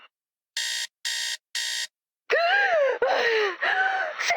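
Three loud, evenly spaced electronic alarm beeps sound alone from a Fortnite Save the World game, followed by a strained, wailing character voice cry.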